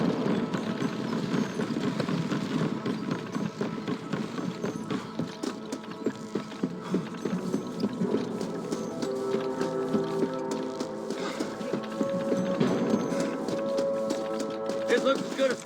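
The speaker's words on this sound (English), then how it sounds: "Watch out for the horses." Horse hooves clip-clop steadily in the Red Dead Redemption video game, a continuous trotting rhythm running through a busy mix of music and other game sounds, with voices speaking over it.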